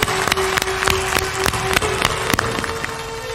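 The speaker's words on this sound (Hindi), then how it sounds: "थोड़ा जोरदार ताली बजाओ।" Audience applause at a Hindu devotional discourse on bhakti, with sharp scattered claps over a dense, steady roar of clapping from a crowd, moderately loud and continuous throughout.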